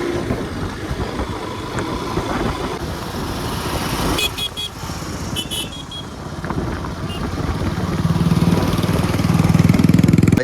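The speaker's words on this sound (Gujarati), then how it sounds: "હવે નીકળીએ છીએ આપણી બાઇક લઈને" A motorbike engine runs steadily on a ride through the Gir forest, a continuous rumbling drone that swells louder toward the end, with a few brief higher-pitched bursts partway through.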